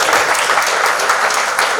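Dense applause from an audience at a motivational talk on healthy millionaire life, a steady wash of many hands clapping that fills the whole short stretch at a loud, even level.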